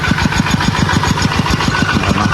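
A water pump engine draining a flooded rice field thumps in a fast, steady rhythm, loud and close, with no voices over it.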